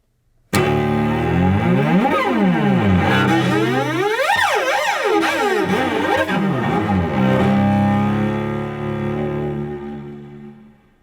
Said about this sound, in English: let's hear the range of our instrument from low to high with some sliding sounds called glissandos